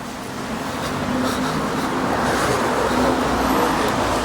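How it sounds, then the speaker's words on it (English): Steady roar of road traffic in an industrial area of Birmingham, close and continuous, with vehicles rumbling past without a break. "Sorry, Colin, I can't hear you for the traffic."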